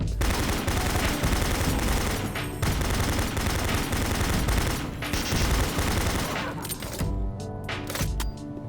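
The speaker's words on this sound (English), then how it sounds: "So you're just gonna end up using machine gun instead" A machine gun fires in the DOOM video game as dense, rapid, loud bursts of gunfire that continue almost unbroken, then thin out near the end into scattered shots.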